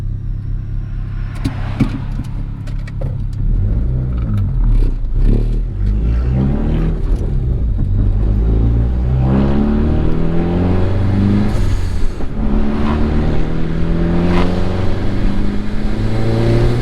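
A turbocharged Honda Accord pulls out and accelerates, its engine rising through the revs with a loud, steady drone and a few clattery transients early on, close and alone without talk.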